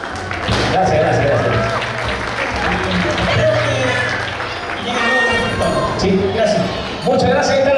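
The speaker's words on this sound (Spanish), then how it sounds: "Más fuerte el aplauso para Rodrigo" An audience at a cueca championship in Melipilla claps in sustained applause with some shouts, and a voice talks over it for most of the stretch.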